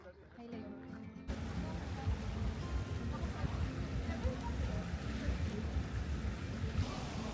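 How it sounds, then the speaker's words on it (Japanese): A ferry crossing Lake Brienz in Switzerland produces a steady, broad rush of wind and water over a low engine rumble, continuous and fairly loud after a quieter opening second. "今ブリエンツ湖のフェリーに乗っています。"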